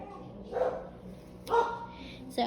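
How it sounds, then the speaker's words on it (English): Dogs bark indoors a short distance away, giving two or three sharp barks spaced about a second apart, faint to moderate, with a voice faintly present. "go see why the dogs are barking"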